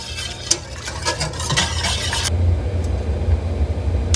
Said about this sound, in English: as it starts to come up to a boil, you wanna continue to whisk it so it doesn't stick at all